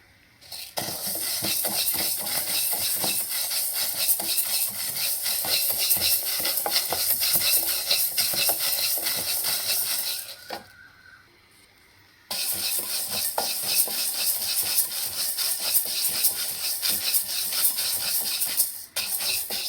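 Green gram, peanuts and almonds dry-roasting in a pan, stirred continuously with a loud scraping, rattling rustle that pauses briefly midway and then resumes, with no voices.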